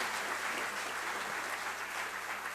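Applause in parliament, a steady, dense wash of many hands clapping heard at a distance and fairly quiet throughout, with no voices standing out.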